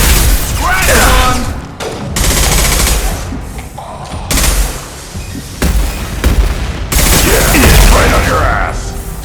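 Gunfire from the Archangel mission in Mass Effect 2: loud, dense bursts and booming shots in several waves, mixed with shouted voices and combat chatter throughout.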